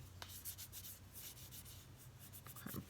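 Paper being burnished along the freshly glued spine of a junk journal, a series of soft, close rubbing strokes in a steady back-and-forth rhythm, quiet and with no talk.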